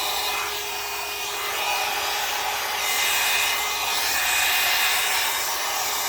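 Air is blown across wet alcohol ink on a surface to spread and lighten it, giving a steady, close breathy rush of hiss that swells slightly toward the end, with no talking.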